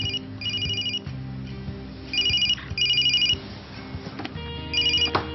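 A telephone rings in several short bursts of repeated electronic trills, with pauses between the rings, over a low background hum.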